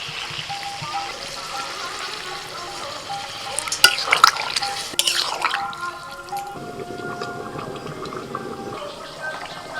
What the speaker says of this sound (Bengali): কষাতে কষাতে মশলা আবার কড়াই লেগে যাচ্ছে আমি জল দিয়ে দিচ্ছি